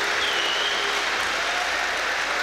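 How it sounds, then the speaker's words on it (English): A crowd at a Polaris BJJ 10 grappling event applauds winner Caol Uno, with loud, dense clapping that holds steady from start to finish. "as the crowd salute Mr. Uno in his victory there"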